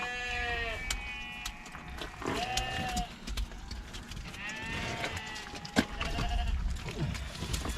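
Several sheep, including an old ewe, bleat in wavering, overlapping calls, some close and loud, with shuffling and rustling around them.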